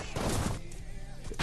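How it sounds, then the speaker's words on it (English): A fiery Gun Flame attack in the fighting game Guilty Gear Strive lands as a loud, roaring blast of gunfire-like noise that fades after about half a second, with game sounds continuing behind it. "He's gun flaming it up."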